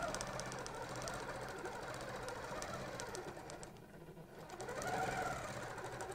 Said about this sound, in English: we're going to shift one more time, lining it up, and we're going to stitch